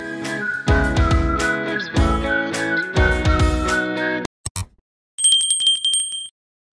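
Subscribe-bell notification effect: a burst of bright chiming tones, then a short gap and a clean two-tone ring, loud and alone.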